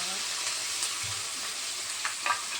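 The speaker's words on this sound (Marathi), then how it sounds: "तेलामध्ये आता परतून घ्यायचा आहे कांदा कांद्याची पेस्ट" Ground onion paste fries in hot oil in a home kitchen, giving a steady close sizzle and crackle throughout, with faint stirring scrapes now and then.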